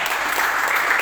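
A church congregation applauding loudly at a worship service, a steady dense wash of clapping from many hands filling the whole moment.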